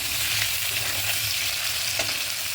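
Pointed gourd and potato browning in hot oil, a dense, steady sizzle up close with soft scraping and clinking as the pieces are stirred around the pan.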